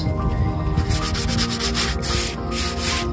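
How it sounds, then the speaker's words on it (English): Continuous, close, loud rasping of sandpaper rubbed back and forth over an antique wooden daybed being refinished, with rhythmic strokes and no talking. "sand the entire thing down, give it another coat"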